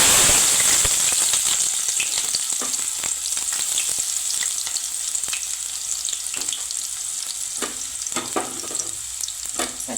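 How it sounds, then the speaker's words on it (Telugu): Onion pieces drop into hot oil in a pan, a loud hissing sizzle that bursts at first and then settles into steady crackling, with occasional spatula scrapes and no voices. "ఇప్పుడైతే నూనె వేడెక్కింది, ఉల్లిపాయ ముక్కలు వేసుకుందాం."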